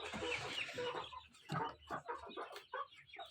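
Chickens and young chicks of the Kuchinskaya Jubilee breed clucking and chattering inside a coop late at night, a close, busy cluster of short calls repeating unevenly with no voices.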